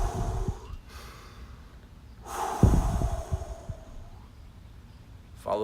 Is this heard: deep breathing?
yes